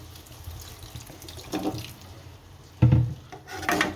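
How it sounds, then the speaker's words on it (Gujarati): A little water goes into a pan of green onions cooking as Gujarati-style shaak with a bit of oil. Short splashing bursts rise over a steady background hiss, the loudest near the end. "આપણે થોડુંક પાણી નાખશું, બહુ ઝાઝું નહીં"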